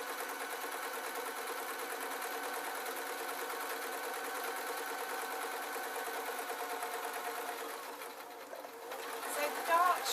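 A sewing machine runs steadily for about eight seconds, stitching a dart in a tartan skirt, then slows and stops near the end; it is close and fairly loud and alone.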